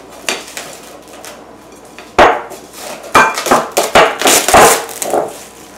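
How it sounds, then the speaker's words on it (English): Powdered sugar is sprinkled slowly from a small hand sifter over a Turkish delight base, with a series of sharp, close taps and light metallic rattles that come in uneven clusters between quiet moments. "now first we're just gonna sprinkle slowly, very slowly"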